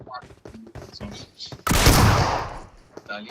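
Burst of video game gunfire in DBS S12K play, a sustained loud volley dominating about 1.7 seconds after quieter game sounds and voices, then fading back.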